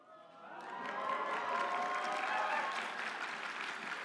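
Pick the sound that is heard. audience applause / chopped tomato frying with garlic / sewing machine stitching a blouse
audience applause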